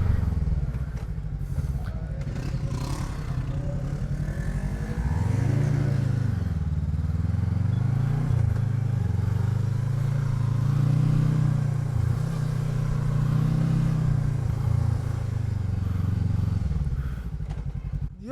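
A Voge 500DS motorcycle, also sold as the Loncin DS7, is ridden with a steady engine drone that rises and falls through gear changes, close and continuous beneath wind noise.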